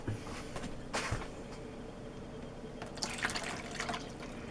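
Cold water trickles and drips into a bowl for bread dough, with brief splashy bursts over a steady low background and no talking.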